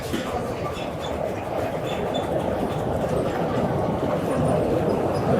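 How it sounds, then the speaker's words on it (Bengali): A train running over the Padma Bridge, heard as a steady, continuous rumble with faint rail clatter at a distance, constant throughout without pauses. "আর একটা ট্রেন যাচ্ছে পদ্মা সেতুর উপর দিয়ে"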